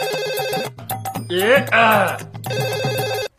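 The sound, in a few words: mobile phone ringing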